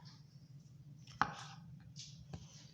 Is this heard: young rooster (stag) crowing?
no